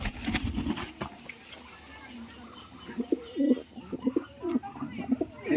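Soft, low pigeon coos repeat in short bursts, with a scuffle and flutter early on before the cooing settles into a steady rhythm nearby.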